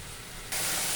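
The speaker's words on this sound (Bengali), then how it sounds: "এবার আমি একটু কষাবো মশলাটা।" Spice paste sautéed in a pan for an egg and potato curry hisses with a soft steady sizzle that jumps suddenly louder and brighter halfway through, with no talking.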